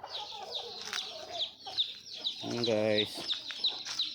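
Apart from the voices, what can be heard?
newly hatched chicks peeping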